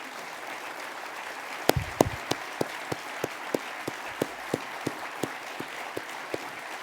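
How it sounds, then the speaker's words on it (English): Sparse clapping from an audience at a university address as trustees stand, a few scattered hands building into a slow, regular rhythm of distinct claps over a soft background wash. "please give a round of applause to the trustees as they stand"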